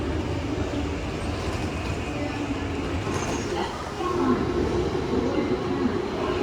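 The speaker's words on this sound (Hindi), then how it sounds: "स्वागत है दोस्तों ओसाका के ट्रेन स्टेशन पे।" Train station ambience in Osaka, Japan, with a loud, steady rumble of trains and the station around them. The noise swells slightly partway through, and voices can be heard beneath it.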